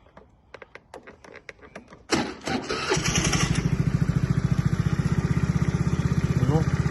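A Honda Dio AF-68 fuel-injected scooter gets a few clicks and knocks, then its engine starts and settles into a steady, rapidly pulsing idle up close.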